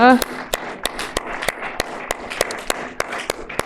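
A church congregation claps in welcome, a sparse, loose string of distinct sharp hand claps from a few people at a steady pace, following a brief burst of speech at the start.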